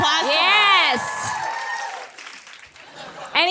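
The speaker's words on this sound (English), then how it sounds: "I want to give it applause." Live audience applause, a wash of clapping from a crowd under loud, excited talk and laughter, fading out and then briefly swelling again at the end.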